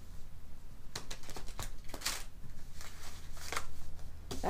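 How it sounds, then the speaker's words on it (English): Tarot cards being shuffled by hand, a soft run of papery riffles and flicks with a few brighter snaps, close up and alone with no talk. "Maybe one more shuffle up and then we're going to get going."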